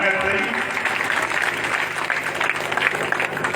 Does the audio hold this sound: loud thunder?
no